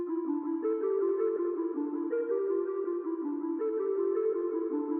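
A rendered hip-hop beat mixed in FL Studio, carried by a sustained synth melody of mid-pitched tones in a steady looping pattern, clean and full, with no voices.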